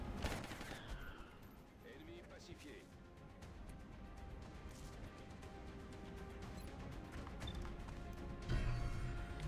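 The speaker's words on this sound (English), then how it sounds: "I'm gonna shoot this guy." Gunfire in the video game XCOM Long War, a sharp burst of shots opening, then a dense rattle of rapid fire and crashes with a heavy thump near the end, voices mixed in.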